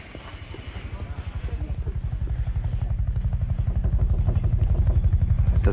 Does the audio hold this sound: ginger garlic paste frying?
no